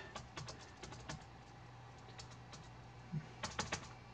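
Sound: typing on an Apple iBook laptop keyboard

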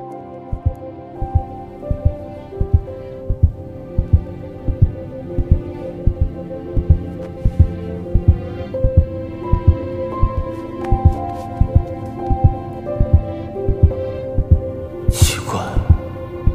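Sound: fast heartbeat sound effect

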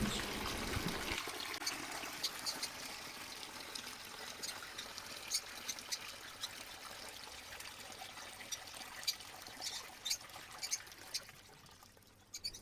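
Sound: waste water draining from fish tank through valve

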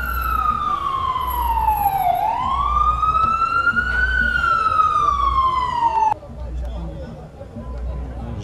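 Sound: ambulance siren at a football match

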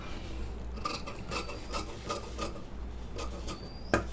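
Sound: cutting a fabric border into cross-grain bias strips

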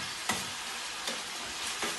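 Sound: paella ingredients frying and sizzling in a pan

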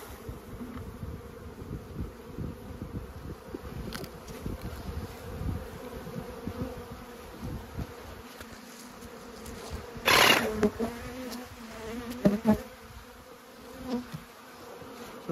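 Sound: honeybees buzzing in shaker box

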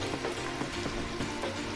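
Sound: rain falling

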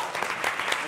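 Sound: audience applause

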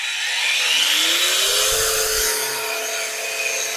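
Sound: Grosser GAG 120N cordless brushless angle grinder running at full speed

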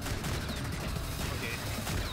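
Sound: gunfire from a sentry turret in the video game Space Beast Terror Fright

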